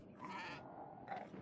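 Goats bleating in the video game Kenshi, two quavering calls in quick succession, faint and somewhat distant over a low game ambience.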